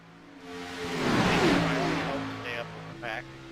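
Onboard engine of the number 70 Xfinity Series race car leading at Daytona, a steady droning note that swells and falls, with a voice talking over it throughout.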